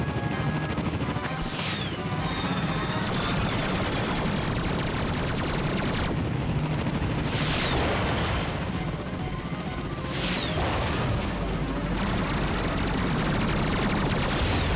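Gunfire and explosive blasts in the Ratchet & Clank video game, with a space bazooka among the weapons, come as dense, loud bursts and crashes that run continuously over a steady backing of game music.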